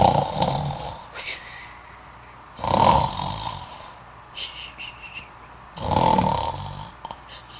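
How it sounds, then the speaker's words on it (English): Deep, rumbling snores of a wolf in a children's story repeat at a slow, regular pace, each loud inhale followed by quieter breathing, close and alone. "Mother Goat set out to find the wolf, and soon she came upon him,"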